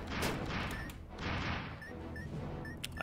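Boss exploding in the roguelike game Dungreed: dense bursts of crackling blasts and crashes in rapid succession, loud and chaotic, with small pinging effects scattered through.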